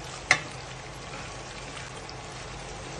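Egg frying in a pan being stirred, a steady close sizzle with one brief scrape near the start.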